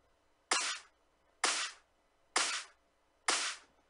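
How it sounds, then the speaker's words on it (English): Four crisp, thin claps in FL Studio, high-pass filtered, repeat at an even, steady pace, each bright and snappy with no low thump beneath it. "We're taking out that low end from the clap."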